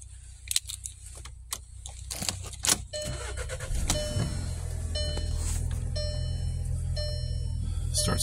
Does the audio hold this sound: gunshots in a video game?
no